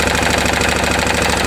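A Kawasaki Lakota engine with a bent valve runs without its air filter, a loud, rough, steady mechanical clatter with a rapid pulsing beat and intake noise from the open carburetor, close up with no talking.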